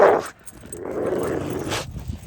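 Dogs, including a small, undersized mother, growl low and steadily while playing tug with a cover at close range, with a sharp yelp-like bark at the start and a rising whine near the end.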